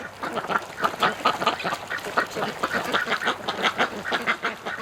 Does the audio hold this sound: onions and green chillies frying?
no